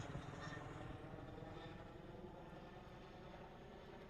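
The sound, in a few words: helicopter flying overhead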